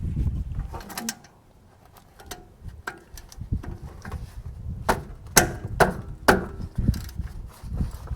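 Metal-on-wood clicks and light ratcheting clatter while a nut is spun by hand off a brake caliper slide pin on a 2010 Chevrolet Silverado rear brake, close up, irregular bursts with no talking.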